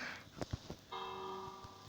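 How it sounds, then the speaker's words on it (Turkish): A doorbell in the Minecraft video game rings with a sustained bell-like electronic chime after a few soft thumps. The tone is quiet and holds steadily to the end. "Böyle bir ne ses çıkarıyor zil."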